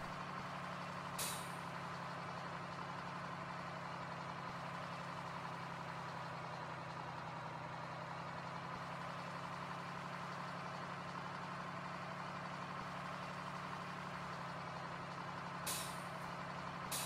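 A truck's air brakes hiss in Farming Simulator 2013, a short sharp release near the start and another near the end over a steady engine idle drone, with no talking.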